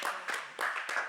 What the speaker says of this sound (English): So let's clap it up one time